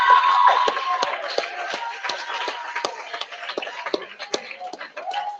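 Audience clapping and cheers at a commencement ceremony, a sustained mix of hand claps and crowd noise that gradually fades, with a voice talking over it at times.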